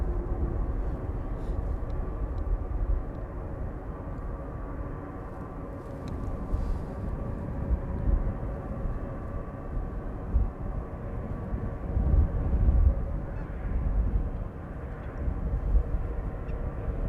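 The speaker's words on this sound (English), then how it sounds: "The A321 is on the downwind and also coming this way." Airbus A321 airliner approaching Amsterdam Schiphol Airport, a steady low jet rumble that holds throughout, swelling slightly in places, heard at a distance with no other prominent sounds.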